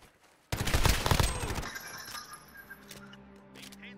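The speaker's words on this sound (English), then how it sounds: "the recoil is there. You can feel the impact coming from the gun." Video game gunfire from Call of Duty Modern Warfare in a 2v2 match, with a sudden loud burst of rapid automatic fire for about a second that then trails off into softer clinks and rattling debris.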